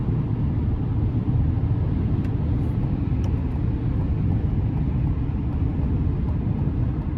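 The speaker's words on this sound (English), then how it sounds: "Wind noise, not bad." Steady low rumble of wind and road noise inside a 2024 GMC Sierra 3500HD Denali Ultimate pickup with a 6.6 Duramax diesel while cruising, a constant broadband roar with no talking.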